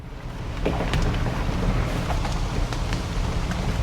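Rain falling steadily outdoors during an off-road drive in a Ford Bronco in Georgia, a dense broadband patter with scattered sharper drops, close and fairly loud, no voices.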